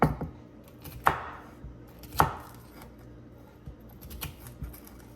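A kitchen knife chops small pieces of egg muffin ingredients on a board, giving a few sharp, distinct thunks about a second apart amid lighter taps and rustles, close and fairly quiet, no talking.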